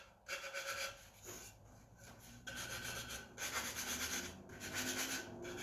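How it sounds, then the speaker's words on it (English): Cut ends of wood are sanded by hand in rhythmic rasping strokes, close and fairly quiet, with short pauses between bursts of rubbing. "Just get my cut ends sanded off so I don't get any splinters."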